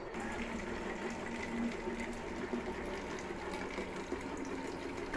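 Water running from a tap to fill a row of bottles, a steady close splashing rush with a faint tonal gurgle as each bottle fills, continuous with no speech.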